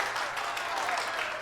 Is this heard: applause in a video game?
yes